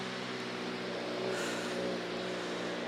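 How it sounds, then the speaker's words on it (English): Cars fresh off a ferry rumble along a busy climbing road on Santorini, a steady engine drone from passing traffic with a slight swell of revving near the middle, moderately distant. "The road is also busy with all these cars that came off of the boat."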